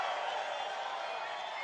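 A large crowd at an outdoor political rally in Butler, a steady broad roar of cheering and whooping heard from a distance, continuous and moderately loud.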